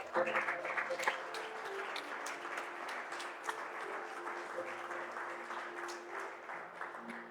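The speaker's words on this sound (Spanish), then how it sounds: "Dale fuerte ese aplauso al Señor." A church congregation applauding the Lord during a sermon, a steady, dense wash of clapping that lasts throughout, with voices and a sustained musical tone running underneath.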